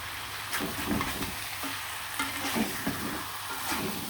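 Chicken pieces with spices sizzle in a hot pan while a spatula stirs them, scraping in a loose repeated rhythm over steady crackling.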